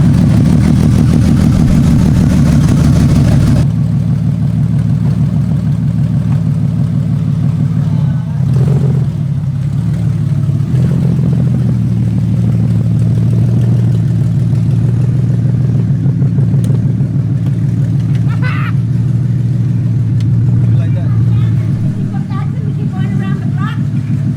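BMW E30 with a swapped S52 engine on open headers runs loud and steady, a deep droning exhaust note held throughout with small shifts in pitch and no speech over it.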